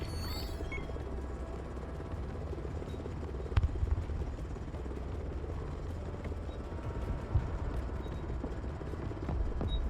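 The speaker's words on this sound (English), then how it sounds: "Helicopter is mission ready." A helicopter in a video game drones with a low, steady rotor rumble throughout, close and fairly constant, with a couple of brief louder knocks and no speech.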